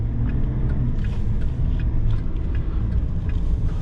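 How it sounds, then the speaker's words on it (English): A 2021 Chevy Silverado 1500 Duramax LTZ Z71 with its inline-six diesel engine, heard from inside while driving: a steady, loud low rumble with a mild, tame engine note and no speech over it. "This is more of a tame inline 6 engine sound note."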